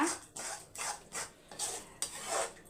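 A spoon rasps back and forth across a pan while egg podimas is mixed, six steady scraping strokes close up with brief pauses between them, no voices.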